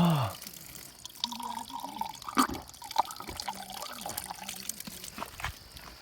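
Water flowing in a village setting, a steady trickling and running sound under faint background noise, with brief knocks and rustles over about six seconds.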